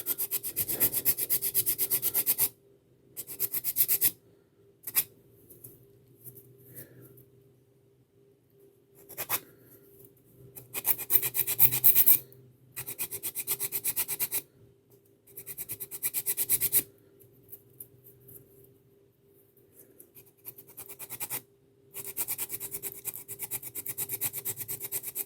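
Hand sanding along the top edge of a piece with sandpaper under light pressure, heard as close, steady rubbing strokes in bursts of several seconds separated by short pauses.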